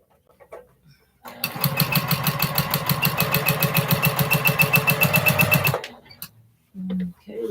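A sewing machine with a walking foot quilts a large quilt, running a steady, fast, close stitching rhythm for several seconds before stopping, with brief quiet handling sounds around it.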